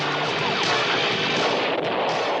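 A dense, roaring blast of noise fills the whole moment, loud and sustained, like an overloaded sci-fi laser cannon exploding, with no speech.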